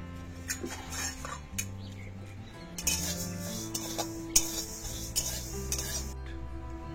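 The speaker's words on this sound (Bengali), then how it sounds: "খিচুড়ি রান্না করার জন্য মুগের ডাল ভেজে নেব" Dry mung dal rattles and scrapes as it is roasted in a pot on a village stove, with scattered clinks of a utensil and faint voices in the background.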